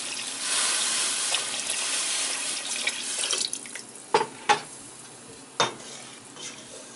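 Water is poured into a pot of softened vegetables with garlic and bouillon cubes, a steady rushing splash for a few seconds. A few sharp clinks follow as the stream stops.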